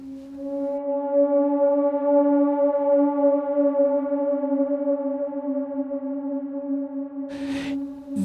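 A sustained, breathy flute tone processed with reverb and delay hangs steady and washed in echo, sounding eerie and dreamlike before a brief noisy burst near the end.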